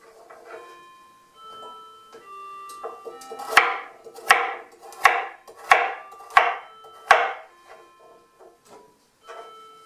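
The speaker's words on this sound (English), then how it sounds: "And I have 3 carrots I'm just going to cut diagonally." A knife cuts three carrots diagonally on a board in six crisp, evenly spaced chops, close and distinct over a soft tonal background.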